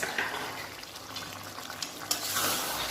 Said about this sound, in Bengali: যেরকম আমার একটু জল লাগবে, আমি একটু জল দিয়ে দেবো অল্প, ব্যাস।